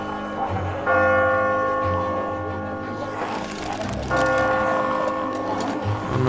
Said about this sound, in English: No, the bell.